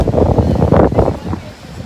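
Strong shoreline wind buffets the microphone at Kopachak during a nearshore fish seine survey, loud gusty rumbling that surges and eases throughout.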